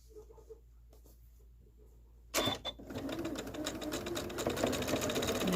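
After a quiet start with faint handling noises, a sewing machine starts stitching quilt pieces, its fast, even chatter of stitches running close and steady to the end.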